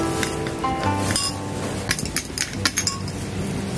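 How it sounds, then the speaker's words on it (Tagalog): A metal spoon clinks repeatedly against a container while a homemade liniment is stirred, with irregular close ringing taps and scrapes at moderate loudness. "Haluin lang ng haluin."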